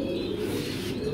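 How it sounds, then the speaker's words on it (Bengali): Racing pigeons at a pigeon farm coo steadily and close by, a soft low continuous murmur that runs through the whole moment with a few faint chirps above it. "কবুতর আপনাদের দেখাই"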